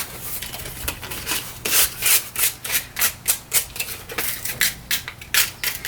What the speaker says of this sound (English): So let me just distress this one a little bit.